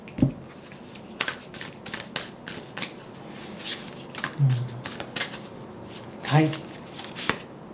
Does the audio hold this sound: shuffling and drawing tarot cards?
yes